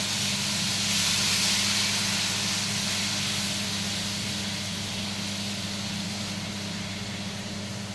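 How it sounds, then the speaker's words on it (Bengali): Potatoes dropped into hot oil in a home kitchen pan give a loud, continuous sizzling hiss that holds steady and fades only slightly over several seconds, with no talking. "আলু ভাজার জন্য ছেড়ে দিলাম।"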